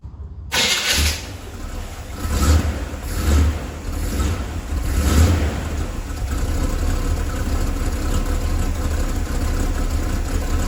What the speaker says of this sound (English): So I'm gonna turn the key and I'm starting it right now.